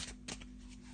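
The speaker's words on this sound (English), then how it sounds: "I've just got a black and white Faulkner deck as normal, just giving it a bit of a shuffle." A black and white Faulkner tarot deck being shuffled by hand, a short close burst of papery riffling and card slaps over a low steady hum, with no talking.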